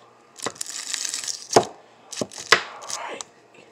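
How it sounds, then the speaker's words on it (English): A kitchen knife slices through a piece of butter in a few separate cuts, each a short crisp chop against the board, close and fairly quiet, with brief pauses between strokes and no talking. "I'm gonna cut a piece of butter off"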